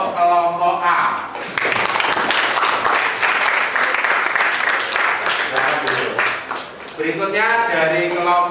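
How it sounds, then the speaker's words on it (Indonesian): Classroom applause for a student group after their presentation on school pollution observations, a sustained burst of clapping that starts after a voice and runs several seconds before talk resumes. "Tepuk tangan untuk kelompok A."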